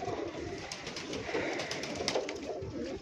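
A flock of young Dera-breed pigeons coos together nearby, a dense, soft layering of low throaty burbles that continues without pause.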